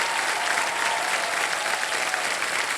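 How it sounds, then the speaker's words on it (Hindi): Loud, sustained applause from a game-show studio audience at Kaun Banega Crorepati, a dense continuous wash of many hands clapping with no talk over it. "और एक बार जोरदार तालियां बज जाएं इनके परिवार के लिए।"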